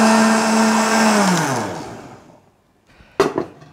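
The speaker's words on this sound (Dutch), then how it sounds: "Dus dan ga ik het nu pureren in de blender." Blender purees cooked food in a kitchen, whirring loudly and close, then winding down. A few short clunks follow after the motor stops.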